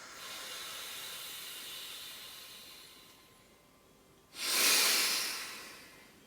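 Forceful yogic breath through the left nostril: a softer hissing exhale fades, then a sudden loud, close rush of air surges in near the end, with no speech.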